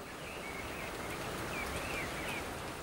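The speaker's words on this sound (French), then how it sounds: "La pluie commence à tomber." Rain falls steadily in the mountains as an even, soft hiss with no breaks, and a few faint high chirps sit above it.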